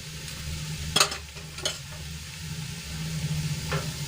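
A spoon stirs pigeon pea kachori filling in a hot oiled pan, a soft steady sizzle running throughout with a few sharp scraping knocks of the spoon against the pan.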